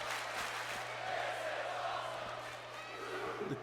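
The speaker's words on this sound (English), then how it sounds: "The crowd saying this is awesome" A wrestling arena crowd in the WWE 2K16 video game chanting and cheering, a broad rhythmic roar of voices with a commentator talking over it.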